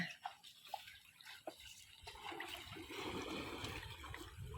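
Floodwater rushing and splashing steadily into a temple pond, flowing left to right, growing fuller and louder partway through, with a broad churning hiss and no voices.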